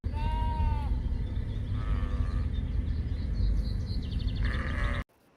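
Sheep bleat in a video game level, with several wavering bleats at close range, one near the start and others later, over a low rumbling game soundtrack.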